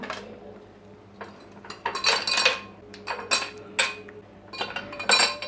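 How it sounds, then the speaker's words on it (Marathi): Ice cubes clink and rattle into a glass in several bright bursts, one handful after another, close up and fairly loud. "चला आता आपण ग्लासमध्ये बर्फाचे खडे टाकून घेऊया।"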